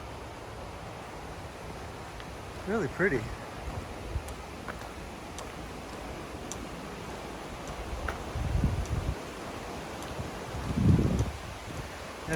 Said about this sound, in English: That'd be some great tubing rapids right there.